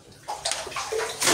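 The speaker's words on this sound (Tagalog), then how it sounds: "So, ang problema, malakas yung tubig." Strong water flow gushing into a dug hole at a building site, a steady close splashing and sloshing rush that swells louder toward the end.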